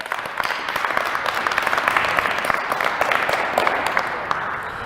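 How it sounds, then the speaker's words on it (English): A crowd at a correctional facility gives itself a round of applause, steady dense clapping with scattered sharper claps standing out, moderately loud and tapering slightly near the end. "give yourselves a round of applause for that"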